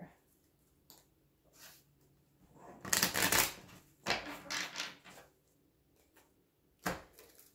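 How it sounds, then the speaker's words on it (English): Tarot cards are shuffled in several quick riffling bursts with short pauses between them, close and fairly quiet, with soft handling noises in between. "2 more shuffles, we'll pull your theme and we'll get started here."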